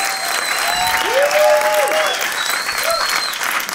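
Studio audience applauding during a comedy talk show, a loud, full burst of clapping throughout, with a voice briefly speaking over it.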